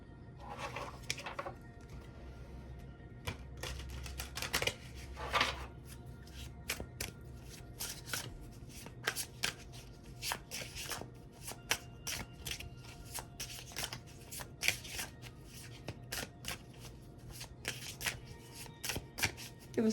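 Tarot cards being shuffled by hand, close and quiet, in repeated crisp riffling bursts with brief pauses between them, at times with soft card slaps.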